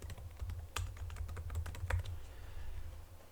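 Keys on a computer keyboard tapped in an irregular run of light clicks while a Wi-Fi password is entered during router setup. The clicks sit close over a steady low hum, with no voices.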